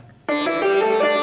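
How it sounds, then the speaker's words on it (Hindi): Layered double sitar tone on a Korg Kross 2 keyboard, two octaves stacked up and down, entering with a sharp pluck after a short near-silence and ringing on with a bright, buzzy sustain. "ये डबल है, सितार का 2 ऑक्टेव मिलाया गया है"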